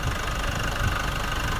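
A steady, low engine rumble from an idling Nissan Navara Calibre with an intermittent air-conditioning fault, continuous at close range, with a faint rattling texture and no voices.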